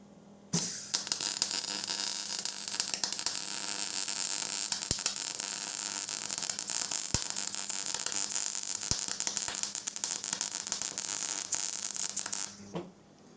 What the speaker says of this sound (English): I'm going to go ahead and weld that part onto the axle now